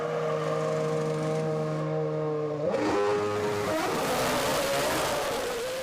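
A Formula 1 car in the 2006 season pulls out of the pits with a high, steady engine whine that drops and then surges into rising revs, loud and close, ending in a broad, bright roar.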